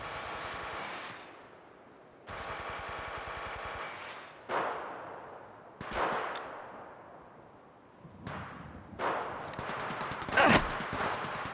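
Gunfire in the Apex Legends video game with sniper rifle and pistol, several separate sharp shots and bursts, some with rapid repeated cracks, each followed by a ringing decay, loud and close without talk.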